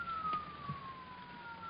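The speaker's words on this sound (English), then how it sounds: "Those are police cars" Police car sirens sound in an old 1950 radio drama: a single steady wailing tone that slowly glides downward, faint and distant under a low background hiss.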